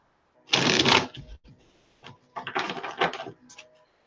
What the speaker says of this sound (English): Let me give this bad boy one more shuffle